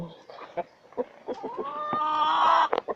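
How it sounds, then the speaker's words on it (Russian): Chickens and a rooster clucking nearby in short bursts in a village, with a longer drawn-out call building toward the end; a voice may murmur faintly. "О, курочки."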